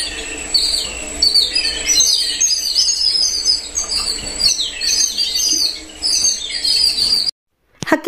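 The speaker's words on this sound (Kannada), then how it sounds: "ಹಕ್ಕಿಗಳ ಶಬ್ದ ಅಂತೂ ಸದಾ ನಿಮ್ಗೆ ಕೇಳಿಸಿಗುತ್ತೆ." Birds chirp and tweet steadily in a resort garden in Coimbatore, a dense chorus of overlapping calls close by, with faint insect buzz beneath, ending in a brief silence.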